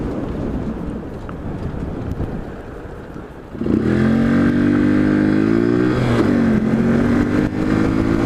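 A Honda CBF125 motorcycle on a country road ride: wind buffets the microphone at first, then the small engine revs up loud and close, its pitch rising and wavering through gear changes.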